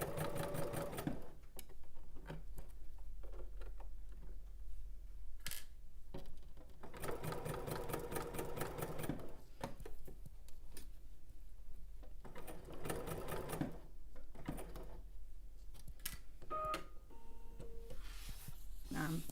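A home sewing machine runs in bursts of rapid stitching while sewing a row of topstitching, with short pauses between runs, close and fairly quiet.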